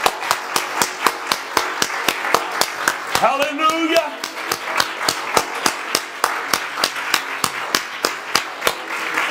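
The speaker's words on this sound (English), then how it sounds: "Clap your hands unto the Lord one more time before you see it." A church congregation claps in unison during praise, with sharp, evenly spaced claps about three to four per second that carry on steadily. A voice calls out briefly partway through.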